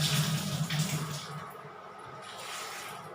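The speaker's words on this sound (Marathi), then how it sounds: "आता हे वांगे धुवून घेते बघा मी स्वच्छ." Cut eggplant pieces being rinsed in water, a close splashing and sloshing that is strongest at first and then settles into a softer, continuous wash.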